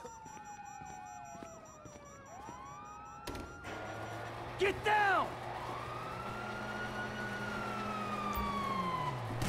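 Police sirens sweep and wail in the video game Grand Theft Auto 5, starting distant, then growing louder amid engine noise and a brief shout.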